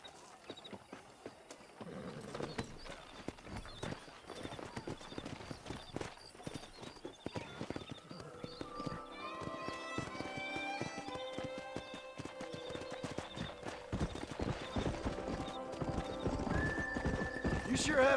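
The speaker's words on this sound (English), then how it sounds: "Let's see if we can't wrangle some horses." Horses in the Red Dead Redemption video game clip-clop at a quick pace, hooves pounding continuously while several whinnies and neighs rise over the running, growing louder toward the end.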